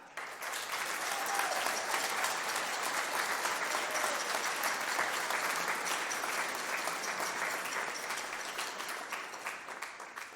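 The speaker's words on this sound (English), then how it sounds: "Would you guys please stand and give them a round of applause?" Sustained applause from an audience at a high school spring band concert, a dense, even wash of clapping lasting the whole stretch, with a few faint voices mixed in.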